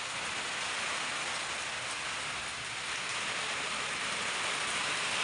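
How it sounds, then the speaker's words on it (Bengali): A heavy downpour roars in a thick, constant wash, rain drumming on surfaces nearby and steady throughout without speech. "আর বৃষ্টি হচ্ছে দেখো"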